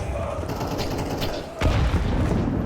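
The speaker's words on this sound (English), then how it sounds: "It's the nade." A grenade detonates during a professional Counter-Strike match, a sudden broadband boom about halfway through that lifts the level over a continuous bed of gameplay noise and distant gunfire-like clatter.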